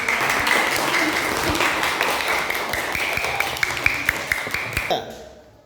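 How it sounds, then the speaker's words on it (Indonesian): Steady applause from a classroom full of people, dense clapping that holds for several seconds and then quickly dies away. "Kita beri tepuk tangan."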